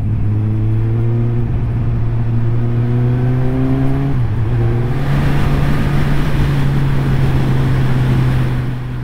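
A Suzuki Katana motorcycle with its K5-derived engine pulls hard under acceleration, the steady engine note dropping briefly at a smooth gear change before climbing again, loud and close with wind rush.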